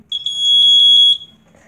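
A household smoke detector sounds one loud, shrill, high-pitched test beep lasting about a second, with a slight pulsing warble, then stops, leaving faint room noise.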